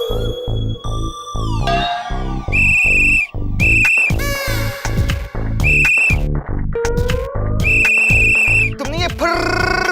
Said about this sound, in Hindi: तुमने ये फर्र वाली सीटी कैसे बजाई?